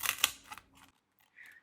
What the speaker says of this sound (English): I'm going to take this pair of Tim Holtz scissors and trim it down so it's smaller.